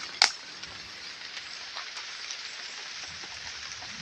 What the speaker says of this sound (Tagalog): Medyo kukunti na lang yung ulan mga guys.